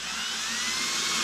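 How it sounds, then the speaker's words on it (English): A power drill bores holes for LED lights in a lithium power box, giving a steady high whirring whine with no talking. "we're just going to drill some holes and wire these guys in."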